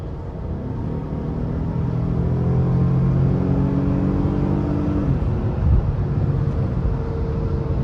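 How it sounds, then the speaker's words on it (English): A 2013 Acura RDX with the 3.5 engine pulls hard from about 60 to 80, a loud sustained engine drone rising in pitch over steady road rumble, then easing off near the end as a gear change drops the tone. "I'm gonna put it in the drive and then I'm gonna punch it."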